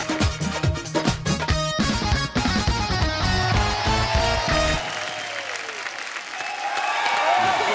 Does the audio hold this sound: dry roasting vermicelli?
no